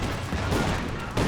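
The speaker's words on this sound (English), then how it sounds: "the T-70 firing some rounds into this wire" A T-70 light tank fires rounds at a wire obstacle in the World War II strategy game Company of Heroes 2, heard as a dense, continuous clatter of gunfire and booms amid battle noise.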